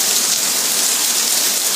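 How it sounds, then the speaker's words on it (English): Heavy rain pours steadily outdoors during a thunderstorm, a dense, continuous hiss close by with no thunder or voices. "the rain is really crazy"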